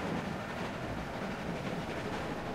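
Train rumbling steadily along its rail track in The Walking Dead Season 1 video game, a continuous low rolling drone with no talk, moderately quiet and even throughout.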